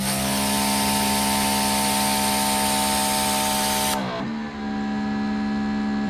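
A Greenworks Pro 3000 PSI electric pressure washer spraying through its turbo tip, a loud steady whine with a strong motor hum, then cutting off abruptly near the end and leaving a lower residual drone.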